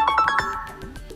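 An iPhone SE (2022) reminder alert tone: four bright chiming pings in quick succession followed by a softer fading ring, clear and close.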